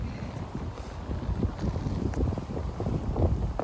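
Wind buffeting an outdoor microphone, a constant loud low rumble and roar that swells slightly and never lets up, with no talk.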